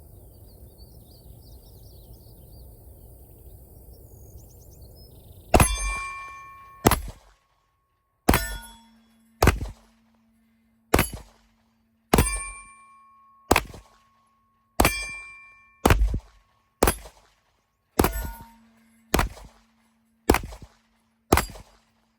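Kimber KDS9C double-stack 9mm 1911 pistol fired at steel targets, with about a dozen sharp shots in a steady rhythm, each followed by a ringing metallic clang from the plates. Loud, after a quiet outdoor lead-in.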